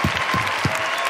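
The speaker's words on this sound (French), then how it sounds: "Bravo, applaudissements même, messieurs, pour Patrice Garmoz." Studio audience applause on a French TV variety show, a continuous, fairly loud burst of clapping with a few low voice sounds mixed in.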